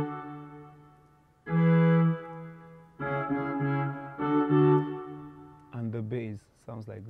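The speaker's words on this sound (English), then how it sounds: "It's called Mellow Brass on Logic." Sustained, soft brass-like notes from Logic's Mellow Brass synth preset play a short slow phrase, warm tones with gaps between, ending in a brief brighter flourish.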